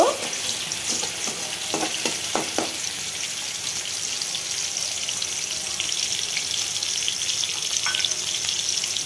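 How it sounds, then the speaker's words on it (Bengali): Ginger and vegetables stirred and fried in a pan, a steady loud sizzle with a few scraping stirs near the start, close and continuous with no talking. "একটু নেড়ে চেড়ে ভেজে নিব।"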